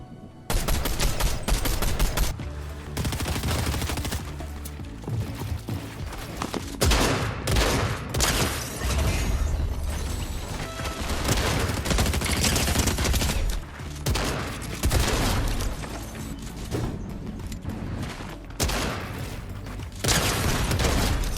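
Loud shotgun blasts in Fortnite solo play, fired repeatedly in close, punchy bursts across the whole stretch with dense game action between shots and no talk.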